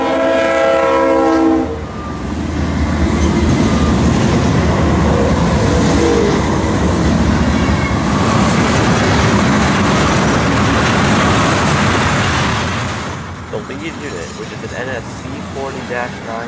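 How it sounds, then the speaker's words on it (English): Four Norfolk Southern locomotives powering a freight train up a steep grade, opening with a loud horn blast, then a heavy sustained diesel roar and rolling rumble that eases near the end, with a voice speaking over it. "Here we see the four locomotives powering up this steep grade."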